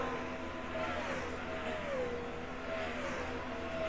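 Race cars fly past one after another during a race, engine notes rising and falling in pitch as they sweep by at a steady distance, with no talk.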